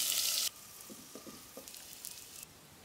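Chopped onion and bay leaves fry in oil on a stove: a loud burst of sizzle at the start settles into a quieter, steady frying hiss with a few soft taps and clinks, no voices.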